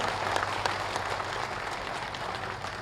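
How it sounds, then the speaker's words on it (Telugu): An audience at a Telugu language day function in Jammalamadugu applauds with dense, steady clapping that fills the whole stretch at a moderate distance. "గట్టి కొట్టాలి చప్పట్లు గట్టి కొట్టాలా"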